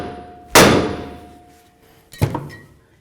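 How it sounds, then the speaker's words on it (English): A hammer strikes a front lower ball joint nut on a 2008-2012 Jeep Liberty twice, with a loud metallic clang and then a shorter, duller knock, each fading quickly. "Now we're going to take our hammer, we're going to bonk right here and try to break this free"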